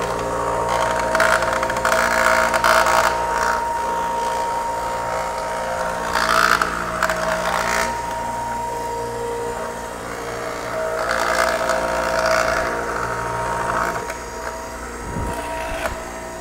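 A carpet removal machine runs continuously as it strips carpet from a floor that forklifts drive over, giving a loud, steady mechanical drone with rising and falling grinding surges.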